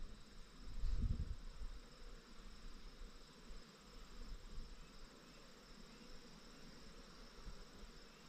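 Honeybees from a late-season swarm pour out of the hive and take flight, a faint layered buzzing hum that stays low and continuous, with a brief louder rumble near the start.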